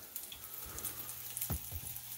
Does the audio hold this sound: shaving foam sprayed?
no